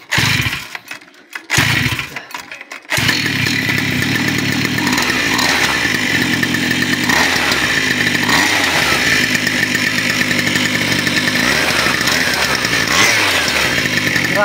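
A pocket bike fitted with a 63cc 1E48F two-stroke engine and reed valve revs hard and close, snarling in repeated rising bursts after a couple of brief stutters at the start.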